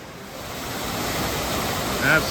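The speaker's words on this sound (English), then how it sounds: "Following the stream down, lots of little waterfalls." A stream with small waterfalls in Sages Ravine along the Appalachian Trail rushes with a continuous broad hiss of falling water, close and steady, mixed with some wind noise on the microphone.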